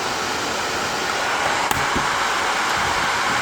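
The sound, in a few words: nail dust collector fan at highest speed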